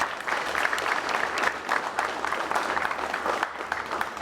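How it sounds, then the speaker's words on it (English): A crowd claps steadily throughout, a dense patter of applause that holds at an even volume without cheering. "So can we give them a round of applause?"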